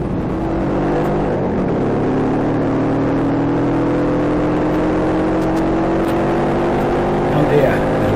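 Motorcycle engines idle and warm up together at a rally ride-out on a sunny morning, a steady, loud, droning rumble that continues unbroken throughout.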